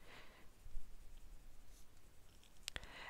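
A colored pencil blends moss green and lime peel green on paper with a faint, soft scratching that continues steadily, ending with a couple of light taps.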